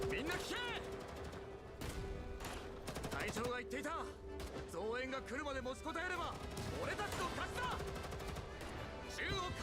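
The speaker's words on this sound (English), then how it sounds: "It's intended effect, but I can't hear him over the gunshot sometimes." Bursts of gunfire from the video game Girls' Frontline 2: Exilium crackle repeatedly throughout, mixed with in-game voices and effects at moderate level.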